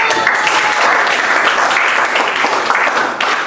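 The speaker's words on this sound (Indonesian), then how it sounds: "Oke, yuk tepuk tangan dulu." Steady, enthusiastic applause from a crowd fills the whole stretch, dense clapping with no pauses and no voices rising above it.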